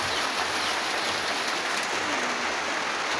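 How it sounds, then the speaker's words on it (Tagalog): Heavy rain pours down in a dense, unbroken hiss, loud and steady throughout, with water drumming on surfaces and no voices over it. "kita nyo naman na lakas ang ulan mga guys"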